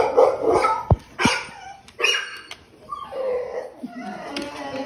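A puppy barks and yips indoors in a home, several sharp close barks early on, then softer whimpers and a few more yips, with faint voices in the background.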